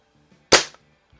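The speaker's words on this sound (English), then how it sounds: "Just absolutely silent shot cycle now." A Crosman Summit air rifle fires a single sharp, loud report with a brief decaying tail, standing alone against a quiet background with a faint mechanical click before and after.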